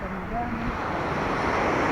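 Sea breeze at a seaside spot on the way to Baler, a steady broadband wind rush with faint surf beneath, continuous and close to the microphone, with a brief voice near the start.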